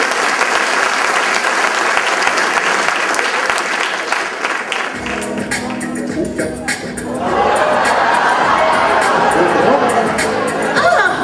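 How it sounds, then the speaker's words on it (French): A live audience bursts into loud, dense applause mixed with cheering and crowd chatter, swelling and thinning before surging again toward the end. "On l'applaudit"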